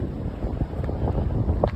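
Blustery wind buffets the microphone in low, rumbling gusts, steady and close throughout, outdoors at Sunset Station Casino and Resort Hotel in Las Vegas.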